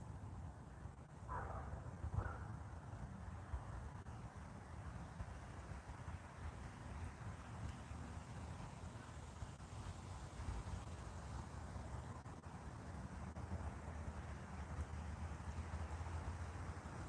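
Outdoor wind rumbles and buffets a microphone in a steady low roar for the whole stretch, with no clear voices over it.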